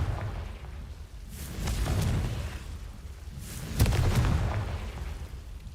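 A Confringo fire spell blasting in a Hogwarts video game, heard as two muffled, rumbling booms with a whooshing swell, each fading out over a low background.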